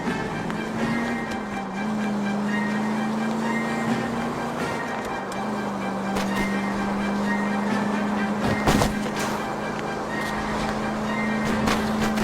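A tram rumbles past in the video game L.A. Noire, a steady low hum and rattling clatter, a sharp metallic crash near the middle, loud and close throughout.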